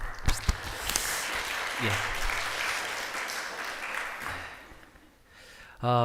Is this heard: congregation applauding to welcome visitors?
yes